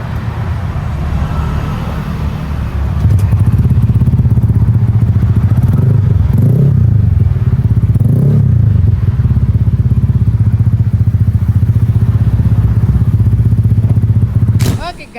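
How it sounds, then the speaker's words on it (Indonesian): A bored-up Honda Vario scooter with a 61 mm kit, previously hard to start, is started and then idles loudly up close, its engine a steady throbbing rumble with a few clattery surges, continuing for several seconds before stopping. "sekarang motornya di starter udah gampang ya guys ya"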